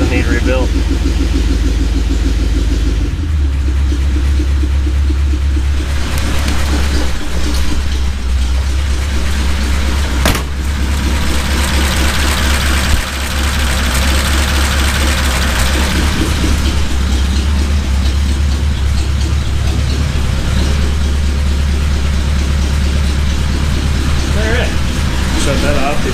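A Ford flathead engine idles steadily in a car, a low continuous rumble with an even pulse that runs unbroken throughout, close and fairly loud, with someone talking over it.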